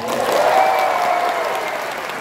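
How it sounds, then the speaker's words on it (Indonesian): A school audience of teachers bursts into sustained applause, a dense wash of many hands clapping together that stays steady and full throughout, with a faint voice or tone drifting over the crowd. "Semuanya tepuk tangan."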